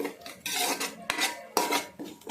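Chicken liver pickle ingredients with chili powder and masala powder being stirred in a pan, a close scraping of a utensil against metal in several broad strokes, each stroke a loud rasping swish separated by brief pauses.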